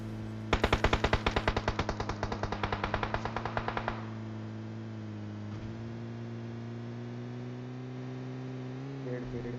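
A long, rapid burst of automatic gunfire in the video game PUBG Mobile rattles loudly for a few seconds, then stops, leaving a steady electronic hum.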